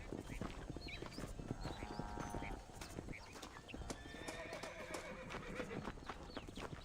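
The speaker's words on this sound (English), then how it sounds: "Chamado meu cavalo, né?" A horse in the video game Red Dead Redemption gallops with quick, clear clip-clopping hooves and lets out loud neighs and whinnies. A faint voice sits under the hoofbeats.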